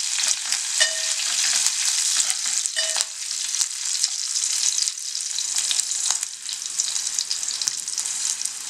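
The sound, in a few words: tempering with green chillies and curry leaves frying while stirred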